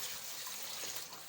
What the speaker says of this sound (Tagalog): lagyan lang natin ng tubig isang tabo